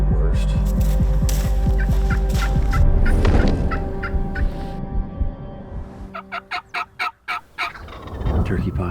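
Wild turkeys on a Wisconsin spring hunting property gobbling loudly and close, several rapid rattling gobbles overlapping, then a series of shorter pulsed calls toward the end.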